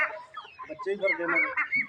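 Ducks and bantam chickens call at a poultry farm, with honking quacks and clucking overlapping in quick bursts close by, busy and fairly loud throughout.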